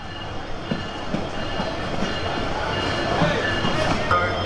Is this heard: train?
yes